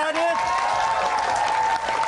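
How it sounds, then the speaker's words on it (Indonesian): Studio audience applause on an Indonesian TV talk show about a young chess player, steady dense clapping filling the clip with a tonal hum and a voice briefly over it. "Tepuk tangan sekali lagi buat Adit."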